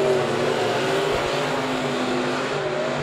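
Modified race cars, B-Mods or Midwest Mods, roar around Monett Motor Speedway during a heat race, a dense, steady engine drone with layered droning tones that holds loud and unbroken throughout.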